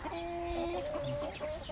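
Chickens cluck and murmur close by, with short tonal clucks and a drawn-out call over a quiet background.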